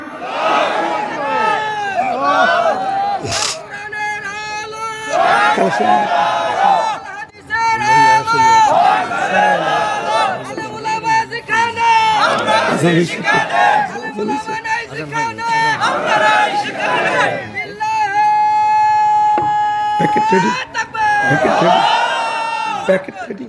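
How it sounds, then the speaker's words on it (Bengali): At a Bangla waz religious sermon, a large crowd shouts the takbir in loud, massed bursts of voices. The surges rise and fall repeatedly over a sustained stretch. "জবান খুলে বলেন নারে তাকবীর"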